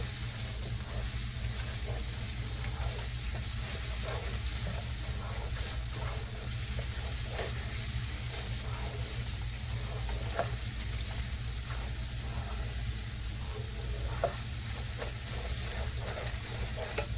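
Garlic, crushed pepper, thyme and curry sizzle steadily in a pot while jollof rice is cooked, a constant close frying hiss with light stirring clicks throughout.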